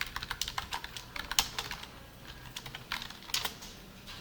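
Code being typed on a computer keyboard, a close, quiet run of quick irregular clicks with a few louder key strikes and brief pauses between bursts, with no talking.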